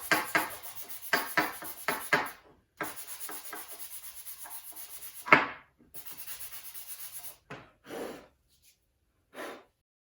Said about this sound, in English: I'm going to sand it really quick so I can put wording on it.